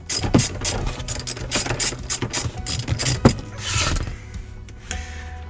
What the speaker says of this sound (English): We'll use a T50 Torx bit to remove the front two seat rail bolts.